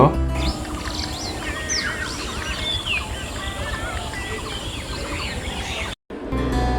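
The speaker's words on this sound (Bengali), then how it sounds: "দেখুন আমাদের জাতীয় পাখি দোয়েল তারই সুমিষ্টি কণ্ঠ" Sweet, varied whistled phrases of an oriental magpie-robin singing close by in a village, continuous over a low rumbling background, with a brief dropout near the end.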